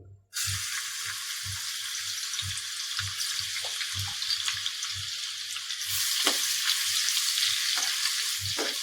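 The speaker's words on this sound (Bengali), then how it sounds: "এখন আমি আদা কুচিগুলো দিয়ে দেব," Chopped ginger dropped into hot oil in a pan for an eggplant and dried fish dish, sizzling steadily and loudly, with light rhythmic scraping of a spatula and the hiss swelling midway.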